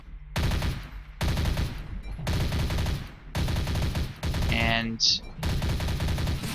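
SMG and pistol fire in the video game Stray, in a series of loud, dense bursts separated by brief gaps, with a faint voice underneath.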